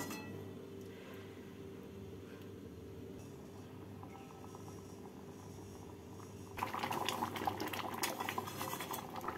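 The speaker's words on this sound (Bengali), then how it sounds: "ডালটাকে 2 মিনিট ফুটিয়ে নিলাম।" Pigeon pea dal with bottle gourd and slit green chillies bubbles steadily in a pot, a soft, even simmer, with a louder burst of clinking and bubbling near the end.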